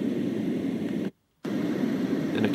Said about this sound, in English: we have the white noise. So this one's pretty deep.